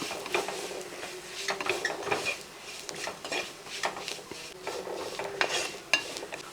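Spice powders get stirred into a cooking pan of okra and egg, making repeated scraping and clinking strokes of a utensil against metal over a soft sizzle, steady and close.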